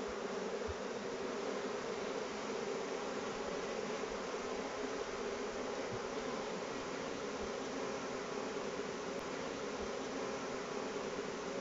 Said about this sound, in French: L'installation de la colonie dans la nouvelle ruche est vraiment très rapide.